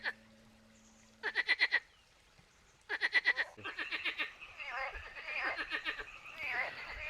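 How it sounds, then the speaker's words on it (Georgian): Frogs croaking near a waterside spot in Batumi, bursts of rapid rhythmic croaks in quick trains, loud and close, with a voice and more chorus calls joining in the second half. "როცა იწყებს ლაპარაკს, მაშინ იწყებენ ესენი ყაყანს, ყიყინს"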